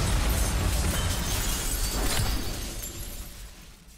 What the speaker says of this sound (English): Come crashing through the window.